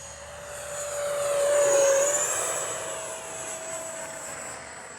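Freewing F-16 70mm V3 RC jet passing overhead in light wind, a steady high-pitched ducted-fan whine that swells toward the middle as it comes closest and then eases off into the distance.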